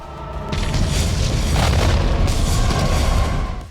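A deep, roaring explosion from the Terminator 2 nuclear mushroom cloud scene: a loud, sustained rumble that swells after a brief lead-in and holds steady for several seconds with heavy low-end boom and no talk.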